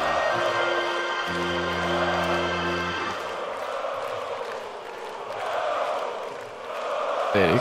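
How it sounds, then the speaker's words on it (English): A concert crowd roars and cheers during a metal performance, with a sustained keyboard chord at the start and the cheering swelling and fading over several seconds. "Dude, you got the crowd going,"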